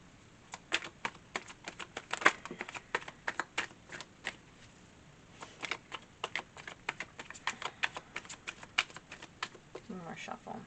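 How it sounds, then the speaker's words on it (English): Tarot cards being shuffled by hand, a run of crisp riffling snaps and taps in uneven bursts with short pauses between, close and fairly quiet, with a brief bit of talk at the end. "One more shuffle."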